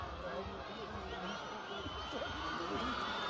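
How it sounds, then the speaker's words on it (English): Stadium crowd at a Nepal vs India international friendly football match in Sikkim, a steady dense roar of cheering and whoops under a commentator's voice throughout. "You can hear the crowd loving every single moment."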